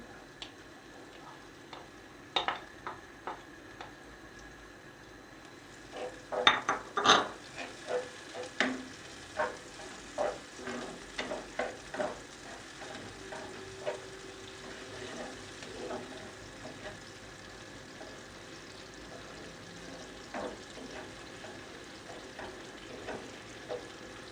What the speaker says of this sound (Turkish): Soğanlarımızı pembelik inceye kadar kavuracağım.